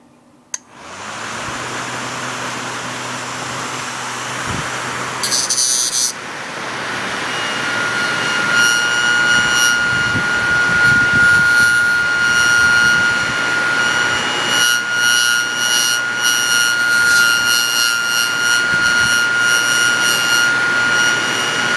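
A homemade mini siren running in reverse starts with a click, then a whirring motor whine that rises and holds as a loud, steady tone with fluttering overtones and brief shifts.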